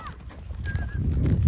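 A horse running, a brief burst of hoof clip-clop and thudding mixed with a faint whinny-like tone, close and fairly loud.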